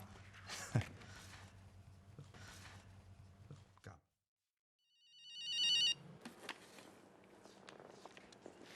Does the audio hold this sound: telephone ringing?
yes